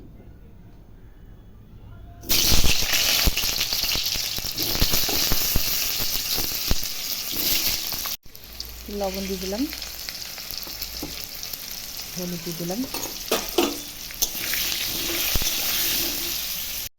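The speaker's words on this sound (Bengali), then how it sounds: "তেলটা গরম হচ্ছে, এখন আলুগুলো ভেজে নিচ্ছি।" Loud, continuous sizzling of potatoes frying in hot oil in a wok starts suddenly and persists, with someone speaking briefly over it.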